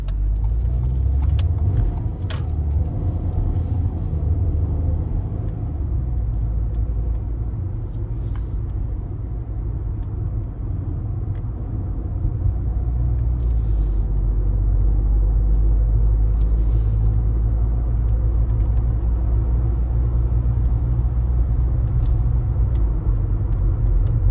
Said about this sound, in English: A little bit of traffic here, so I'm gonna wait for these guys to go by